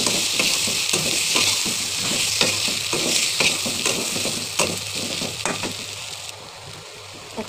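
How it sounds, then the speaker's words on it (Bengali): Potatoes frying in a spiced masala with steady sizzling and repeated scrapes of a spoon stirring through the pan, the sizzle easing slightly near the end. "মশলাটা হয়ে আসছে, এখন আলুগুলো দিয়ে দেবো।"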